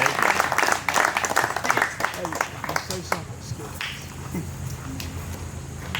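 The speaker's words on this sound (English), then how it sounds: "Let's have a round of applause for him for putting on this great show for the third year." Crowd applause and clapping at SUBFEST 2022, an RC submarine event, for the show's organizer: a dense burst of claps for about three seconds that thins to scattered claps and murmuring voices.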